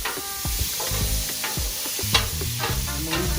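Halved potatoes with salt, pepper, garlic and olive oil sizzle steadily on a Blackstone griddle, with a loud, close frying hiss and scraping stirring strokes over it.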